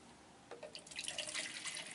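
Urine poured from a measuring cup into a bedside commode, a short splash and trickle of liquid starting about halfway through, close and quiet.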